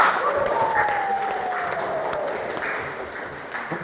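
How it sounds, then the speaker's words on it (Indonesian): Applause from a classroom group of students during a teacher training lesson, a steady spread of clapping held at an even level for several seconds, fairly close with a busy room tone. "Aplaus untuk kita semua"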